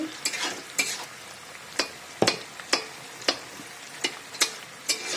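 Ground spices fry in oil for a fish curry of potatoes, tomatoes and drumsticks, a soft sizzle under repeated sharp scrapes of a spatula stirring the pan at an irregular, unhurried pace.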